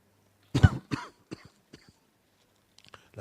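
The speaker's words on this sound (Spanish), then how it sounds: "La tos la traje de La Pampa también." A man coughs several times in short bursts, one loud close hack followed by smaller, quieter coughs and throat clearing, with pauses between them in a quiet room.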